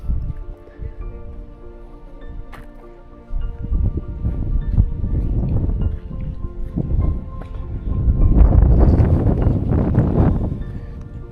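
Strong wind on Antigua buffets the microphone, a heavy rumbling roar that swells and gusts, growing louder toward the end.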